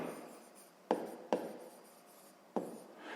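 A pen writes a maths equation on paper in quiet, close scratching strokes, with three sharper taps as the pen meets the page between soft sliding movements.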